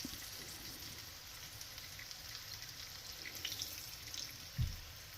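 Morel mushrooms frying in a pan, a faint, steady hiss and crackle of sizzling with a soft clink near the end and no voices.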